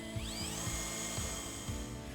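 A power drill bores mounting screw holes into a powerboat's transom for underwater lights. Its whine spins up at the start and then holds steady, with a soft low thump about every half second.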